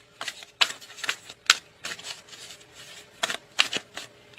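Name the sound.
shuffling tarot cards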